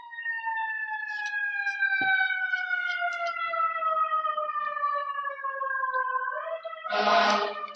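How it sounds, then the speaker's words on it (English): New York City fire truck siren wailing as it passes, a single long tone sliding slowly downward, then a sharp burst of a horn blast at the close; no talk over it. "to let the New York City fire trucks go by."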